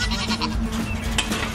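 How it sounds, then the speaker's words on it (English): A goat bleats on a farm in the morning, a short, close, wavering cry over faint background noise. "Good morning, Daisy Goat."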